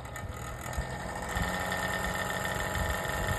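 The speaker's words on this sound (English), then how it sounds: "I turned the Lasco fan off." A Lasco fan heater winding down after being switched off, a low steady mechanical hum and rumble with faint whirring, close and continuous with no talking.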